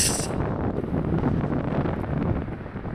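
Strong wind buffets the microphone near the lakes around San Martin de los Andes, a dense, steady roar that fills the whole clip with no voices.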